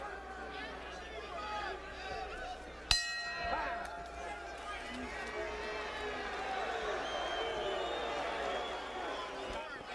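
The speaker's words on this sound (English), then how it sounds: "the crowd, I don't need to tell you, is into this fight" A boxing crowd roars at the end of round six of a pro fight, a bell clang cutting in before the cheering and hubbub swell and hold steady under a commentator's voice.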